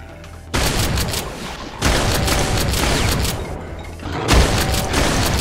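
Sustained heavy gunfire in the video game GZDoom with the Brutal Doom mod, in loud bursts, with a short lull between volleys and booming impacts, no voices.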